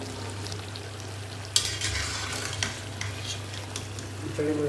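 Boiled chickpeas go into a sizzling pot of murgh chana masala, a steady frying hiss with a few clinks and stirring scrapes, no talk.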